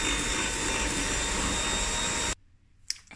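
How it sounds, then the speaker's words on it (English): Soft butter is whisked with sugar for a milk tart, making a loud, steady whirring drone that runs without a break and then cuts off abruptly, leaving a quiet room with a faint clink. "it's been 2 minutes while I was whisking the butter, the soft butter, with a half a cup of sugar"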